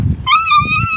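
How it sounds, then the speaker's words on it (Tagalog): A hairless dog whimpers in a high, wavering whine lasting under a second, close by, over low background rumble. "Umiyak po yung aso na kalbo po."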